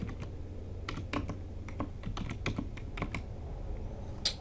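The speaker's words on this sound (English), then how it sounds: "I'm typing test, I'm hitting the tab key" Typing on a computer keyboard while entering Linux commands, a quick irregular run of close, crisp key clicks over a low background hum.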